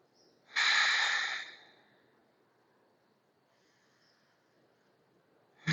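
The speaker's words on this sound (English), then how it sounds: "Take 3 breaths here." A single audible breath during a yoga pose, a short breathy exhale or snort-like rush of air lasting about a second, then near silence, with a faint click at the end.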